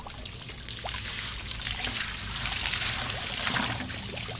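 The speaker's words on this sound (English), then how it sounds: "And just wash it down. There's a bit of excess material on the sluice" Water pouring and trickling over a gold sluice as it washes excess material down, a close, steady splashing rush with small surges and drips, no speech.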